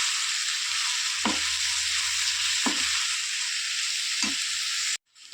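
Chilli powder and grated coconut stirred into avarekai (field bean) palya frying in a pan: a steady close sizzle with three distinct spoon-scraping strokes at even intervals, ending abruptly.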